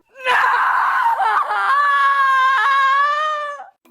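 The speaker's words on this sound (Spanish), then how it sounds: "Así es como hacen el grito perfecto." A Hollywood scream artist lets out a long, sustained scream with rising, wavering pitch, loud and close, holding steady for several seconds before cutting off.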